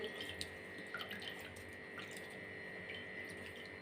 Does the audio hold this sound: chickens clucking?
no